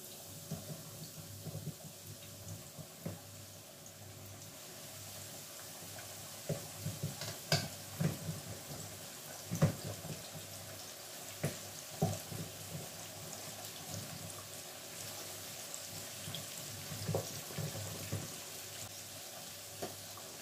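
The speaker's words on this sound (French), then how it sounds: "voilà mes fritures. Je mets dans l'huile." Sweet potato fries sizzle and crackle steadily in hot oil, with occasional clinks and stirring noises over a constant frying hiss.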